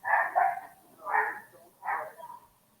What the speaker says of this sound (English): It sounded like a small dog.